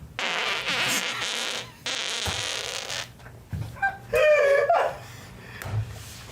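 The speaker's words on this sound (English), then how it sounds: "I like fart machine." Fart machine sound effect going off in a few wet, sputtering blasts, the loudest burst near the end, with laughter and chatter from people around it.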